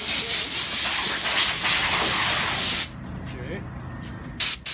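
Loud pressurised spray hissing as dust is washed off after an ATV ride in Cappadocia, a continuous blast that cuts off abruptly partway through, then quiet with a couple of short bursts at the end.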